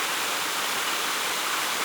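Natural stream water at the Amazon Eco Lodge in the rainforest, channelled through small bunds into artificial swimming pools, makes a steady, close rushing hiss with no pause.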